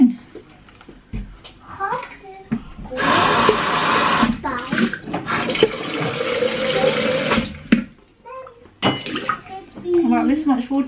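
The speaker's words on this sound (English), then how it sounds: "I'm just going to fill this up with water." Water pours steadily into a container for two long stretches, a rushing splash close by, with a child and an adult talking before, between and after.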